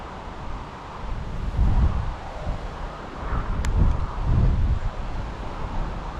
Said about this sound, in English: The wind is atrocious today.